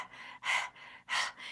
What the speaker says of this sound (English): you're panting like a dog